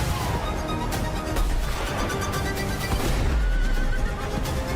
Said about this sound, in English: Look, he's riding a horse now.